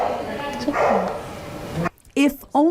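Small rescued dog barking in a few short, sharp yips near the end, preceded by people talking and background noise.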